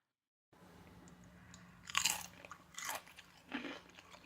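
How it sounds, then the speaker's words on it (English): Homemade potato chips seasoned with sea salt and cracked black pepper are bitten and chewed close up, with three crisp crunches separated by quiet pauses in an otherwise hushed room. "the crunch is definitely crunching, and that sea salt and little bit of cracked black pepper just added the perfect touch"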